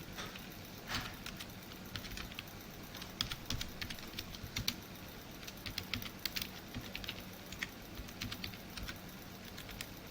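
Quick, irregular keystrokes on a computer keyboard as a name is typed, soft and close-up clicking with short pauses between bursts.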